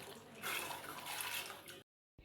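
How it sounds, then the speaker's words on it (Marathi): Water swishes and sloshes in a vessel as lentils (dal) are rinsed by hand, then it stops abruptly. "ही डाळ आहे ना मी तीन पाण्याने स्वच्छ धुवून घेते"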